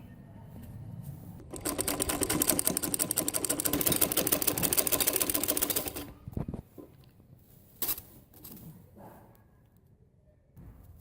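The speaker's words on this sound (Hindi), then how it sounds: "इधर बखिया लगा दूँ" A sewing machine stitching Patiala salwar fabric whirs in a fast, loud run of rapid needle strokes for about four seconds, then stops, followed by a few soft thumps and handling noises.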